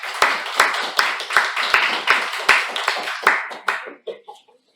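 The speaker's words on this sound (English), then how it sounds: "Let's give a huge round of applause to all three of them" A round of applause at a Toastmasters club meeting: a small room of people clapping together in an irregular, fairly close patter with individual sharp claps, thinning out and fading to scattered last claps near the end.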